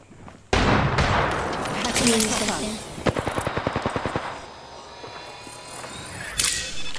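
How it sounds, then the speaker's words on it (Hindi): Gunfire in the video game Apex Legends: a sudden loud blast opens into sustained firing, then a rapid, evenly spaced automatic burst of about a dozen shots and a final crack near the end, all close and loud with a voice talking over it. "आवाज़ आ रही है बंदूक की यहाँ से आ रही है"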